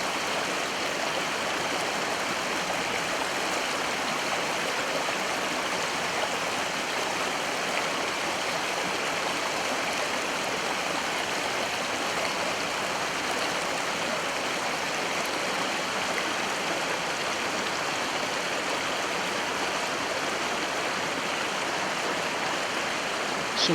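Water of a stream flows steadily through a living forest, a continuous close rushing and trickling wash that holds at an even level with no voices.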